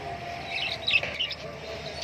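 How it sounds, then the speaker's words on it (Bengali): Cockatiels, lovebirds, budgerigars and pigeons in a bird shop give off a steady chorus of high, overlapping chirps and tweets, with a few sharper calls standing out close by. "এখানে ককটেল আছে এখানে সব লাভ বার্ডগুলো রয়েছে নিচে আছে যেগুলো সব বদ্রি রয়েছে"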